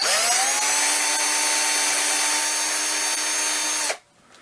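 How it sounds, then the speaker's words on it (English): A power drill whines steadily at high speed for about four seconds while drilling a hole to mount a Phalaenopsis orchid, then cuts off abruptly into near silence. "I'm going to go back and drill me another hole."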